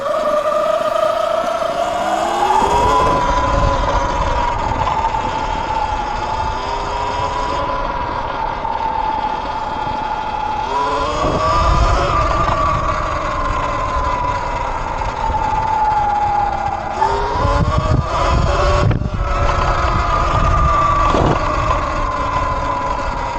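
An E-Ride Pro 3.0 electric motorbike whines loudly as it rides, its motor pitch swooping up and down in repeated surges as it spins out, with wind and rough ground rumble underneath.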